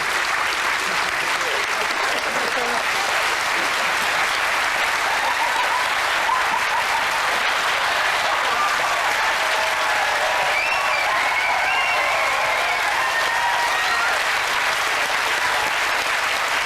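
A studio audience at a 1995 BBC sports quiz show claps in a sustained, even wave for about seventeen seconds, with faint voices and a few whoops rising over the steady patter.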